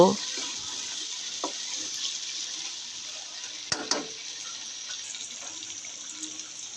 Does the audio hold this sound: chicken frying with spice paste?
yes